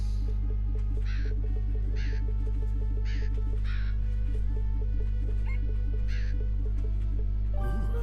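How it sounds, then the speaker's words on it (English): Crows cawing in A Hat in Time, a handful of separate harsh caws spaced irregularly over a steady droning game background with a repeating low melodic loop. "Have you noticed all these crows around the place?"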